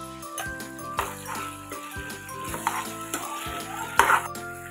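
Whole garam masala spices (cloves, cardamom, a few peppercorns and cinnamon) fry in a pan while a spoon stirs them, with soft sizzling, light metallic clinks and scrapes against the pan, and several sharper taps.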